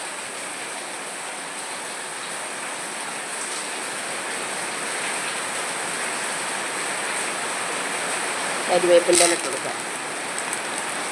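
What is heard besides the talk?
heavy rain pouring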